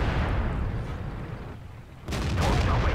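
A deep, booming tank cannon shot from a Type 62 in a tank battle video game, a heavy blast arriving after a brief lull and rolling into a rumbling, loud tail over ongoing engine noise.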